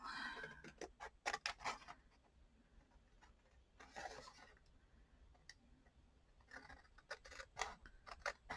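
Scissors trim a paper tag made from a book page, with several short bursts of crisp snipping close by and quiet pauses between the cuts.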